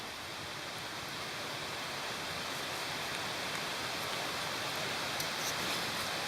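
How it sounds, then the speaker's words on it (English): Steady, even rushing of Cantrell Creek flowing at a moderate distance, heard from a hiking trail, a constant wash of water noise with no voices. "You can hear Cantrell Creek off to the right."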